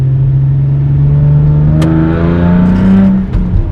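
A loud straight-piped 3.8 V6 Hyundai Genesis Coupe R-Spec engine revs with a rising, raspy drone that climbs in pitch, then drops off briefly near the end.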